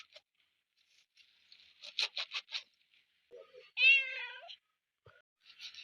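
A cat meows several times while waiting to be fed fish in a home kitchen, a few short close calls followed by one longer, drawn-out wail, with light rustling and scraping between them.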